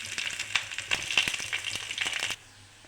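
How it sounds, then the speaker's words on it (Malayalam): Dried red chillies and curry leaves crackle and spit in hot oil for a tempering, a close, busy run of sharp pops and sizzle that stops abruptly near the end. "ഞാൻ അതിലേക്ക് വറ്റൽമുളകും വേപ്പിലയും കൂടി ഇട്ട്, ഇനി കുറച്ച് ഞാൻ എടുത്ത് വെച്ചിരിക്കുന്ന കുറച്ച് കറിവേപ്പിലയും കൂടി ഇട്ട് ഒന്ന് താളിക്കാൻ വേണ്ടിയിട്ടാണ്"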